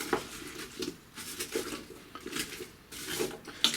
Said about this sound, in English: give it a good stir with a wooden or plastic spatula, because we don't want to damage the base of the ceramic pot